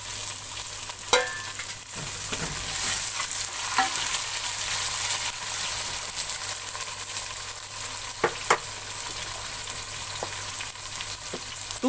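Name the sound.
tomatoes added and frying with garlic paste in pan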